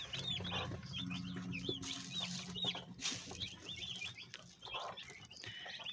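Broiler chicks, about forty of them, peep and cheep busily in a brooder, with repeated high chirps, some flapping and low rustling, fairly close and fairly faint.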